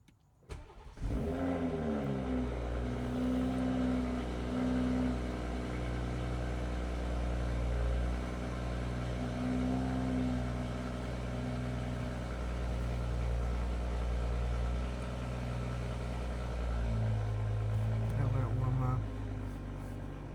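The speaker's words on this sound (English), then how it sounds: "let's check out the M340i cold start" A BMW M340i with an Active Autowerks downpipe cold-starts close by: a brief crank, a sharp roaring flare, then a loud, steady high idle that shifts to a lower, smoother tone near the end.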